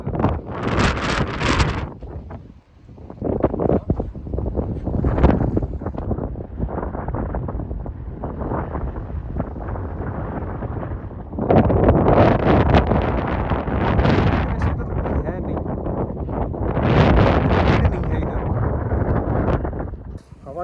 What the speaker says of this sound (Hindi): मैं आपको दिखाता हूँ कि हवा कितनी तेज़ चल रही है